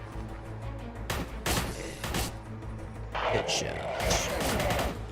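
A grease gun firing in Forgive Me Father, with several loud, punchy shots and booms in quick clusters over game ambience, close up, and someone talking briefly between bursts.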